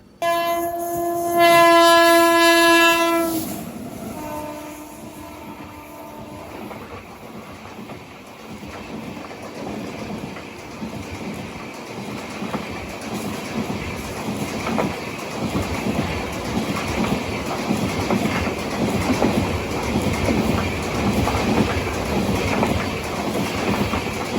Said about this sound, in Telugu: ఇప్పుడు ఆ బండి పక్క ట్రాక్లోంచి సర్రని వెళ్ళిపోద్ది